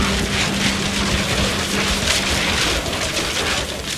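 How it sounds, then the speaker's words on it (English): Heavy rain from the video game What Remains of Edith Finch, a dense, steady wash of falling water filling the whole stretch at close range and fairly loud, with a faint low tone underneath. "The rain came down in buckets then"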